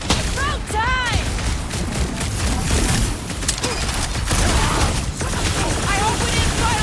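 Heavy gunfire from enemies' big guns in a Guardians of the Galaxy video game battle, dense continuous booming and blasting with whooshing effects and other game sounds layered throughout, loud and busy.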